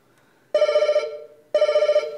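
Telephone bell rings twice in clear, loud bursts, each a rapid trilling ring lasting about half a second with a short decaying tail, separated by a brief silence.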